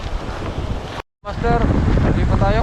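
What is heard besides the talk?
strong wind on microphone while fishing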